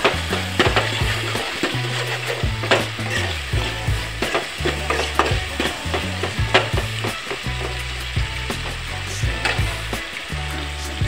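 Tomato with coriander powder, chilli powder and garam masala sautéing in a pan for a sprouted moth bean curry: continuous close sizzling and frying with repeated stirring scrapes in a steady rhythm.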